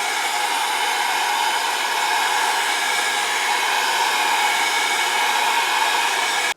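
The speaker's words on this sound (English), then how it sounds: "I'm just going to hit it with the heat gun to dry it." A heat gun blowing hot air to dry paint on a mixed media piece, a loud, steady, even whoosh that holds the whole time and then cuts off abruptly at the end.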